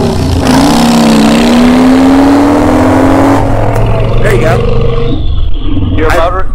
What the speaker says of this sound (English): Your motorcycle tooted. As I missed a gear.